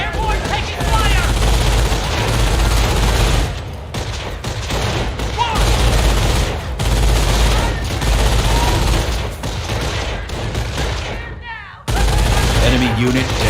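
Bursts of rifle and machine-gun fire crackle through a Company of Heroes World War II battle with airborne troops, with rapid volleys, booms and a sudden brief cutout, and game voices call out between the shots.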